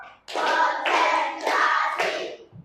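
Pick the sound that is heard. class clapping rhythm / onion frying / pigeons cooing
class clapping rhythm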